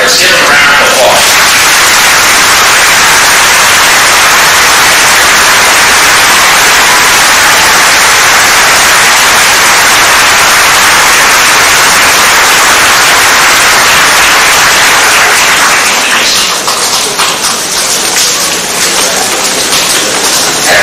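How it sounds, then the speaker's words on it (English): Graduation audience applauding in a large hall at a 1989 high school ceremony, a steady dense wash of clapping that runs loud and unbroken for about fifteen seconds before thinning out. "Let's give them a round of applause."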